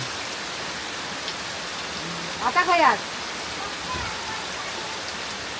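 Steady rain pours down throughout, a dense even hiss, with a short burst of talking partway through.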